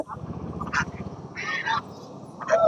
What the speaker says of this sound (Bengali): আর পাতি হাঁস রয়েছে